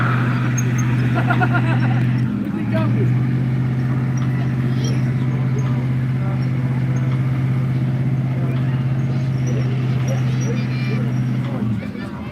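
A stunt show car drives slowly and carefully across grass and gravel, its engine holding a steady low idle-like drone throughout, with crowd babble and an announcer talking over it at a live daredevil event.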